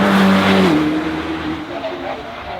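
A supercar on its final run at the Goodwood Festival of Speed roars past loudly, its high engine note dropping as it shifts and fades into the distance, with a voice talking over it.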